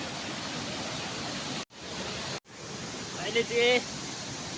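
Irang Waterfall roars as a steady, loud wash of rushing water, briefly cut by two short gaps, with a person's voice speaking faintly over it near the end.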